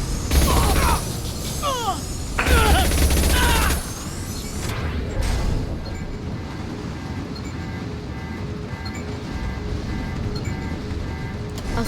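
Gunfire in the Mass Effect 2 video game, with loud bursts of shots in the first few seconds before giving way to quieter rumbling battle ambience.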